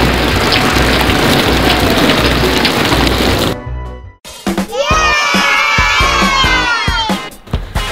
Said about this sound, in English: Oh no, it's raining, guys.